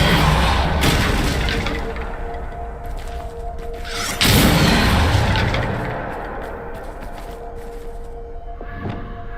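Depulso force-push spell cast in the Hogwarts Legacy PC game: a dense, loud burst of crashing, rumbling impact noise with a second heavy blast midway, amid sustained game ambience.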